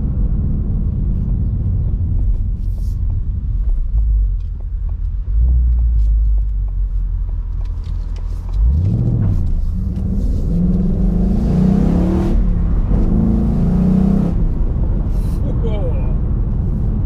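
A Ford Mustang GT convertible on the road gives a loud, steady low engine rumble throughout, with a deeper surge partway through and a voice speaking over it in the second half.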